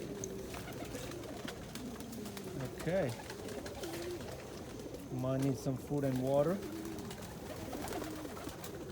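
A pet pigeon gives a few soft, rolling coos close by, two short bouts separated by quieter moments, while someone talks over and between them.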